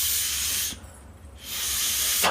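Air is blown by mouth through the cleaned vent pipe of a pressure cooker, giving two loud, close hissing bursts split by a short pause, with a sharp spike at the end.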